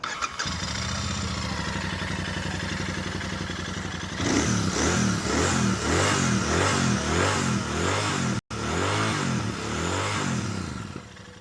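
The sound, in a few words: Royal Enfield Super Meteor 650 motorcycle exhaust note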